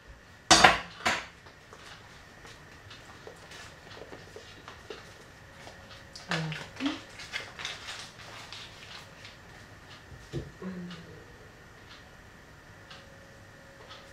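A metal tablespoon scoops a stiff, hard ingredient from a container while cooking potatoes au gratin with béchamel, giving a sharp clatter at the start, then scattered scraping and tapping clicks at close range in an otherwise quiet room.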